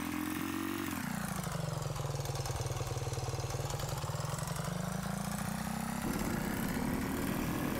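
A motorcycle engine in a UFO sighting simulator video game idles steadily, its low rumble shifting pitch slightly partway through, continuous and fairly close throughout.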